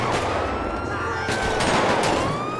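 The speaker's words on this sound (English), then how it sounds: "Who's shooting?" Gunfire in the video game GTA 5, modded Los Santos Red, with rapid bursts of shots and sharp cracks over a constant rumble, fairly loud and sustained, with game tones ringing through.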